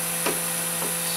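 A Fastcap Fastedge trimmer snipping edge banding: two brief, soft cuts about half a second apart over a steady hum, no talk.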